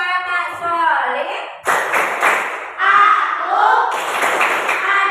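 Children chant 'tepuk anak soleh' in a classroom, their voices mixed with bursts of rhythmic hand claps that punctuate the chanting, loud and close.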